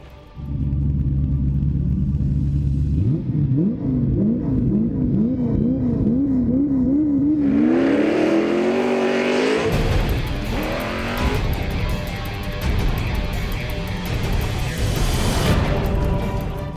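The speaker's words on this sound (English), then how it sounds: "The very strong lineup of pro buggies, not disappointing, attacking the prologue course with plenty of commitment" Pro buggies on a desert rally prologue course roar past loudly, engines climbing through rising revs before a sharp shift into dense, continuous mechanical roar and rumble with no voices.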